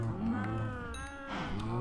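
Low, sustained mooing of cattle in the survival video game Forever Stranded, a steady droning bellow heard fairly faint and continuous with no talk over it.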